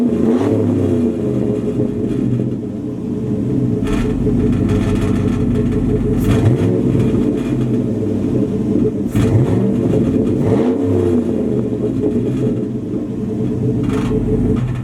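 A single cab pickup truck with headers and exhaust work is revved repeatedly, its loud engine rising and falling in several throttle blips over a steady rumbling idle, heard close and alone.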